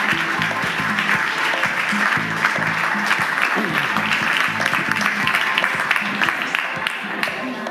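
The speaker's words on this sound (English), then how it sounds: "please join me in a round of applause and welcome Don Tapscott" A conference audience applauds to welcome a closing keynote speaker, giving a dense, steady roar of clapping that runs loud and unbroken throughout.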